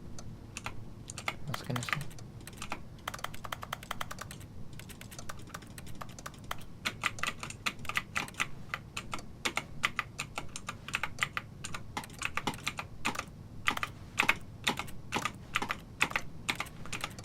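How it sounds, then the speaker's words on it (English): Rapid keyboard key presses from The Stanley Parable: Ultra Deluxe, a sharp, uneven clatter that runs in bursts, sparse at first and then denser. A voice briefly talks in the middle. "the pressing of a keyboard."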